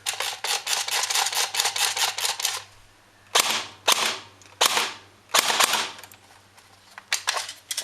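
An Ares TAR-21 airsoft rifle fed from a wound high-capacity magazine fires BBs in a rapid burst of sharp, close snapping shots, then short bursts after a pause, loud and alone without talking.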